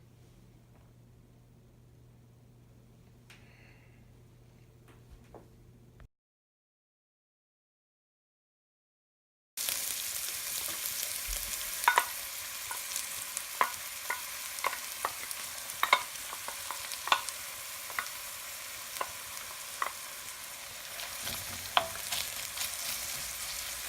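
Onions frying in oil in a pan over medium-low heat for pasta sauce, a steady broadband sizzle with scattered crackles and pops after a brief quiet stretch, with no talking.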